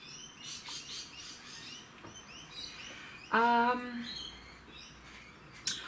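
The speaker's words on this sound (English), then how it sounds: "can you hear the birds?" Birds chirp and trill in the background, a few brief calls with one clearer, louder song phrase midway, over soft ambient noise.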